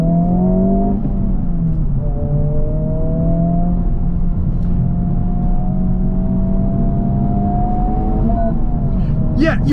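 A 2024 Honda Civic Type R engine drones steadily at a sustained, loud level while cornering, with its pitch gliding up and down through the bends, heard from inside the cabin without talk.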